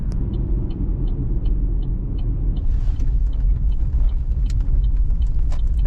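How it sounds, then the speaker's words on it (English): Trucks idle on a farm while their engines warm up. A loud, steady, low diesel rumble runs throughout, with faint regular ticking early on and a few light clicks and hisses later. "Trucks are running, warming up."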